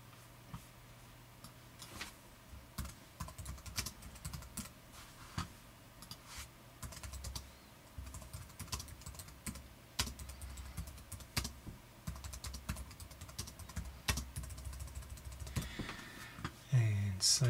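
Computer keyboard typing in a quiet room, a steady run of light clicking keystrokes with brief pauses, ending in a few louder taps.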